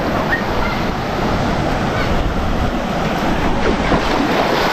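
Rushing water at a hidden waterfall near Tirunelveli, a dense, continuous roar that stays close and loud throughout with no break or speech.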